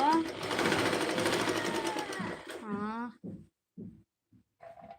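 A sewing machine stitches in a fast, steady whirring run for about three seconds before stopping, then a person speaks in short phrases.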